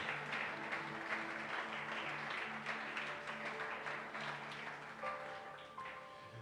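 A church congregation claps in praise during a Spanish-language sermon, steady fairly soft applause continuing throughout with sustained organ or keyboard tones underneath.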